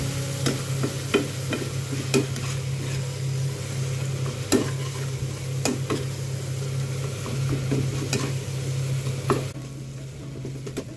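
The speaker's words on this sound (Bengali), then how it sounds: "সামান্য একটু কাশ্মীরি লঙ্কা দিলাম, অল্প একটু জল দিলাম, দিয়ে মশলাটাকে কষাবো।" Masala with Kashmiri chilli powder and a splash of water stir-fried in a pan, a constant sizzle beneath repeated sharp spatula scrapes and knocks, close and fairly loud, with a steady low hum throughout.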